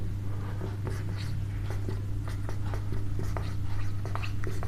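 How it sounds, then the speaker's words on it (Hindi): Pen strokes on paper while writing out a maths formula, a series of short scratchy taps and strokes over a constant low hum, close and fairly faint. "मैं लिखता हूं इसको"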